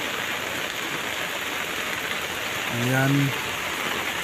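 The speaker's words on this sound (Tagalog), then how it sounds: "So itong mga guys yung ulan, grabe, walang tigil, kagabi pa to, kahapon pa talaga." Heavy, continuous rain falls steadily outdoors in Southern Leyte during a flood ahead of a typhoon. The dense hiss is broken once by a brief voice.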